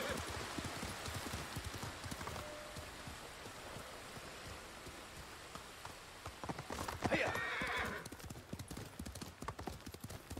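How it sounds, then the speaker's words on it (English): Steady hoof clip-clop from a ridden horse in Ghost of Tsushima, heading toward a hot springs area, rhythmic and close, with a rain-like hiss and a brief louder rustle midway. "Wait, can I ride with my horse here?"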